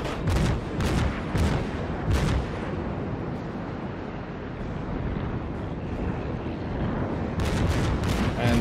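Naval guns from a destroyer in World of Warships fire several loud, booming shots in a rough burst at the start and again near the end, over constant wind and sea noise.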